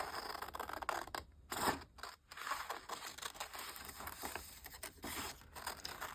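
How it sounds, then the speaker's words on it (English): Scissors snip and crunch through paper for a collage, a series of close, quiet cuts with brief gaps and faint paper rustling, with no talking. "if you don't move the scissors and you just move your paper, it is easier"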